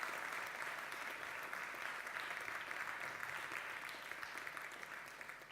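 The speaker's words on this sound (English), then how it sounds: "Should we just give Peter a final round of applause?" Steady audience applause at a lunchtime talk event in Cambridge, a dense, continuous wash of many hands clapping that holds evenly throughout and eases slightly toward the end.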